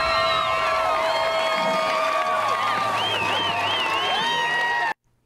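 A packed crowd on both sides cheers at a high school football game between Kennedy and Shafter, with loud whoops, whistles and shouts layered together before cutting off abruptly near the end.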